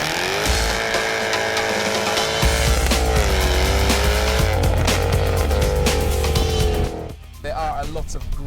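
An Alfa Romeo 4C sports car drives with its engine loud and close, the revs climbing and falling in long smooth sweeps before a sudden drop in power near the end.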